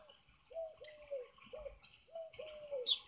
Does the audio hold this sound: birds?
yes